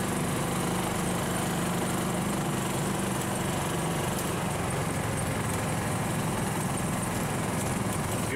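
A 1957 Chevy-styled golf cart drives around a parking lot, its small engine giving a steady, continuous buzzing drone throughout, close and fairly loud with broad wind-like noise and no talking.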